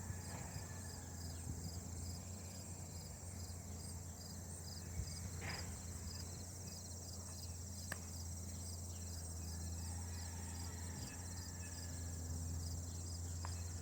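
Insects chirp outdoors in a sunflower patch: a steady, high, continuous cricket-like trill holds at low level for the whole stretch, with a faint low hum beneath and occasional soft ticks.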